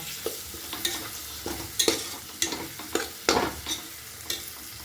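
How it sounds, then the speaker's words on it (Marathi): Whole spices sizzle in hot oil as a tempering for whole masoor dal while a spoon stirs and scrapes the pan in irregular bursts, close and moderately loud, with no talking. "छान अशी मस्त मसाल्याची आपण फोडणी दिलेली आहे"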